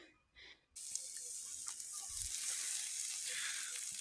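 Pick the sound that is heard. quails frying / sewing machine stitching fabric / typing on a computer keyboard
quails frying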